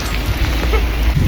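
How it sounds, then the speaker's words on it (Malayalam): Heavy, sudden rain pours down outdoors as a dense, loud, steady hiss of drops lasting just over a second. "നല്ല മഴയാണ്."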